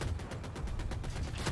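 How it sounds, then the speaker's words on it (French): Rapid bursts of video-game gunfire directed at a helicopter, a dense run of sharp repeated shots over a steady low rumble, loud and continuous with no talking. "On se fait tirer dessus."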